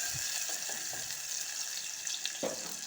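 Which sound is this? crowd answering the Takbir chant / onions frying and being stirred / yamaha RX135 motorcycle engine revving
onions frying and being stirred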